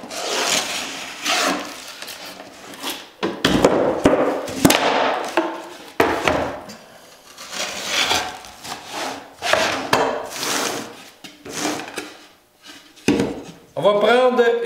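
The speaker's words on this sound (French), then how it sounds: "On va couper une petite partie de notre feuille." A sheet of gypsum drywall being cut by hand, with rough rasping, scraping strokes in uneven bursts, loud and close, broken by short pauses.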